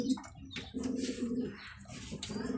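Racing pigeons cooing inside a loft, with several low, throaty coos overlapping close by and a few light chirps mixed in, and no talking.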